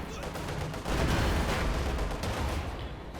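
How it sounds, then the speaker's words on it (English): Dense strafing gunfire from Luftwaffe aircraft in Company of Heroes 2, a continuous loud roar of rapid shots and engine noise filling the whole stretch, with a commentator's voice faintly beneath. "More strafes there from the Luftwaffe."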